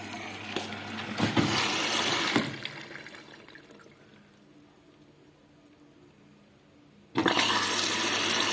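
Water rushes into an Indesit washing machine in bursts, quieting to a faint trickle for a few seconds before the loud inflow starts again.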